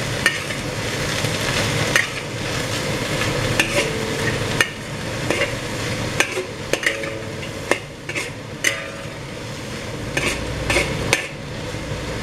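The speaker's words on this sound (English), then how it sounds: "Give it a stir." Vermicelli bihun frying in a pan with belacan, stirred with a utensil: steady sizzle under repeated scraping and clinking strokes against the pan, close and continuous throughout.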